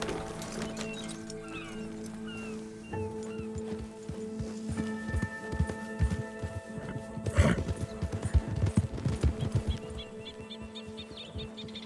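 Horse hooves gallop and a horse neighs in the Red Dead Redemption 2 video game, a rapid uneven clatter of hoofbeats building in the second half, with birdsong and other ambient game sounds behind it.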